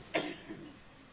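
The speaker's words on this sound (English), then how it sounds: "we still get the coughing" A single short cough sounds nearby in a courtroom during a murder trial, followed by a faint trailing breath in a quiet room.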